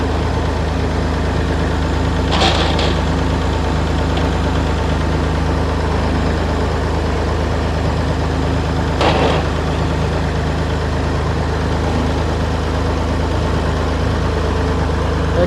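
A Massey Ferguson tractor engine runs steadily in gear with a constant low mechanical drone, close and even throughout, with two brief sharp clanks partway through and no talking.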